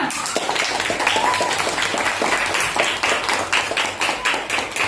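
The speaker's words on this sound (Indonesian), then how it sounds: "Tepuk tangan untuk kita bersama." Classroom of students clapping together for a correct answer in a lesson, a steady patter of many hands filling the room, with children's voices mixed in.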